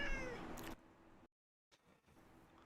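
A pet cat meows clearly up close at the start, a strong tonal call lasting under a second, followed by a silent gap and then faint room noise.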